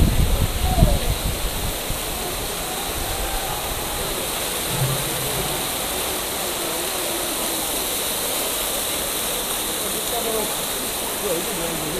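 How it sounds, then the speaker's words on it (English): Waterfall pouring steadily nearby, a constant broad rushing wash with a brief thump of handling noise near the start. "Like, guys, you need to see this waterfall."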